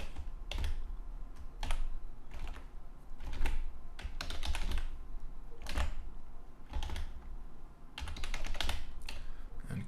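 Fingers tap steadily on a computer keyboard, a close run of quick clicky keystrokes with small pauses and no voices, while a PHP file is being typed into.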